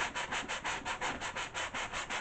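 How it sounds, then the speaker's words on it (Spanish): A sanding block is rubbed by hand over soft MDF wood in quick, steady back-and-forth strokes, about a dozen close scratchy passes with no talking. "Y lijo."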